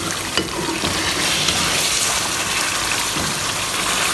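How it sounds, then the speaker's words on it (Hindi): Goat or mutton meat sizzling and browning in a pot for chicken biryani, a steady close hiss of frying with occasional stirring scrapes, continuous throughout with no talk. "गोश्त हमारा भुना जा रहा है"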